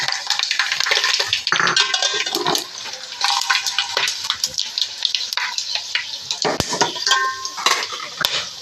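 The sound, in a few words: whole spices (garam masala) sizzling in hot oil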